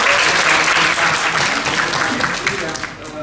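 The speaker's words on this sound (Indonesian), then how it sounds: "Boleh kita tepuk tangan" A talk show audience at a Seoul Style event bursts into sustained applause, loud and dense throughout, with a voice faintly audible underneath.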